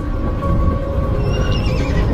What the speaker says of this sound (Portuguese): É o relincho dela